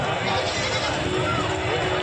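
A goat bleats amid the bustle of a crowded livestock market in Jaswant Nagar, Uttar Pradesh, its cry partly buried under nearby talking and constant crowd noise.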